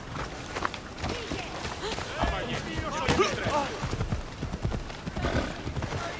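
Horse hooves clip-clopping in Assassin's Creed Odyssey, a brisk rhythmic clatter of repeated hoof strikes with occasional whinny-like tones, heard under someone talking over the gameplay.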